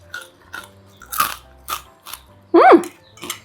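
Crisp crunchy bites into fried salted fish (ikan asin) with mild curly chilli, several sharp crunches in a row, close up, the loudest near the end, with no talking.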